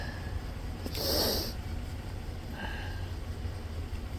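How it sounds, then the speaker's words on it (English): A person sniffling from allergies while working on a Dodge Ram pickup, one sharp nasal sniff near the start followed by a fainter one, close over a steady low hum. "Sorry about the sniffles. Allergies are kicking in."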